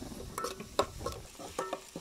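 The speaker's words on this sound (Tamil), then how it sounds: "வெங்காயத்தை வந்து நம்ம நல்லா வதக்கிக்கலாம்." Onions fry in a pan on a home stove, with soft sizzling under scattered scrapes and clinks of a spoon stirring them, quiet and close.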